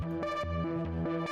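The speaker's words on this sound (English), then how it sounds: "Tubular bells." A tubular bells synthesizer patch in an emotional bass music track plays a run of sustained, bright tones that step between pitches, clear and steady with no voices.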